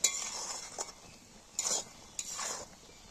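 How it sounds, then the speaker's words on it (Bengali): A spoon stirs and scrapes a thick coconut and jaggery mixture in a pan while making coconut laddoos, in several short scraping strokes with light metallic clinks, close and moderately quiet. "নাড়তে হবে বেশি করে"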